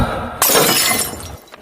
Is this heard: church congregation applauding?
no